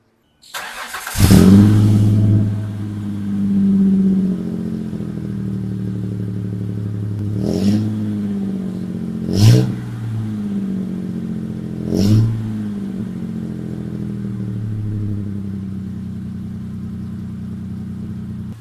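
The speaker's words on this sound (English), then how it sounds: "let's fire it up and I'll let you listen what it sounds like outside." A supercharged 2002 Ford Ranger 4x4 engine cranks and fires, then settles into a steady low idle broken by three quick throttle blips, heard loud and close without talking.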